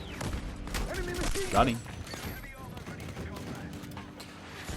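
Gunfire from a weapon in the video game Battlefield 6, a dense string of rapid shots with a sharper burst in the middle, heard under game effects and a player's brief speech.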